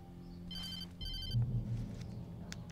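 An old telephone in the Alan Wake game rings in two short, bright trilling bursts, fairly quiet against a low ambient hum with a soft thud afterward.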